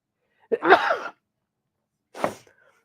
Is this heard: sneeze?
yes